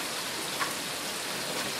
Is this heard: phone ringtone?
no